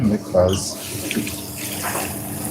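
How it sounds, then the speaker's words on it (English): Cold water runs from a tap into a small pot in a busy restaurant kitchen, a steady splashing gush close by with voices talking over it. "We want to fill that up with some cold water"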